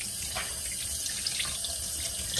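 Tap water runs steadily into a sink while surf clams (hokkigai) are rinsed, a continuous close splashing rush with no talk over it.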